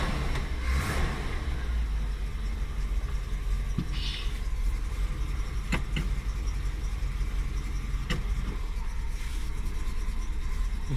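A Cadillac Fleetwood 75 limousine engine runs at a steady idle, giving a continuous low rumble with a few small clicks and knocks over it. There is no talking.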